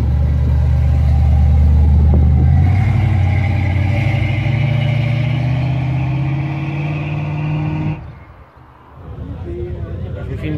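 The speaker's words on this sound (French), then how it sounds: "Yvan et sa Mustang 69 Shaker qui s'en va." A 1969 Ford Mustang Shaker rumbles loudly up close, and its deep engine note swells as it pulls away. The sound drops off sharply near the end and then rises again faintly.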